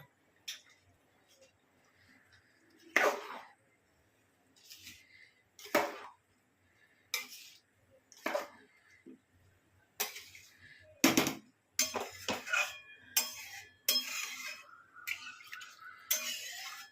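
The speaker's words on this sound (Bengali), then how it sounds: "ভালো করে কড়াটা ধুয়ে নিলাম" Clattering and scraping of a metal kadai being washed with water in a home kitchen, a string of short knocks and clanks with brief splashes that grow denser toward the end, no voices.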